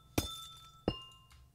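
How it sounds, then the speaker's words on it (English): Two glassy, crystalline chimes from amethyst blocks in Minecraft, struck about a second apart, each a bright clink that rings out with a short shimmering tail; quiet and isolated with no talking. "one is the budding amethyst, which sounds so good."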